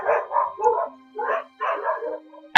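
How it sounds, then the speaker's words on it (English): Dogs barking indoors close by, a burst of several sharp barks followed by a short pause and another run of barks, loud and alone with no talk. "your dogs interrupt your recording session every single goddamn time"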